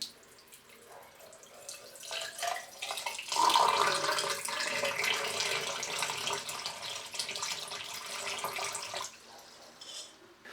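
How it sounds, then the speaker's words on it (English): Warm water poured from a milk bottle into a blocked sink basin, a steady splashing trickle lasting about nine seconds, close and alone, with a brief louder gush near the start. "I'm going to pour that into the basin"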